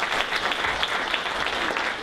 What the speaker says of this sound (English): A big round of applause for my TARDIS and DeLorean people.